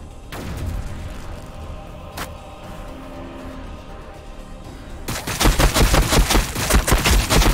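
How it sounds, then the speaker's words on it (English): Gunfire in Warhammer 40k Battlesector starts as a sweeping shot and scattered battlefield noise, then turns into loud rapid bursts of automatic fire for the last few seconds. "We are taking fire."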